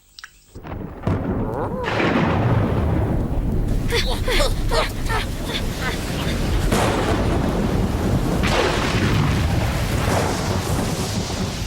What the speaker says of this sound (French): Tu n'as pas peur du tonnerre et de la foudre, n'est-ce pas?